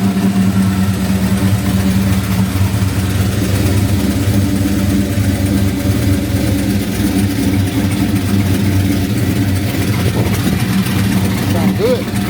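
The engine of a 1975 Pontiac Grandville runs at a steady, loud idle, heard up close. It is a continuous low rumble with a constant throb and only slight changes through the whole stretch.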